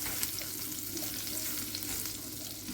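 Ingredients for a Maggi-based ramen sautéing in butter over low heat, a steady dense sizzle with soft stirring scrapes running throughout, close and continuous with no talking.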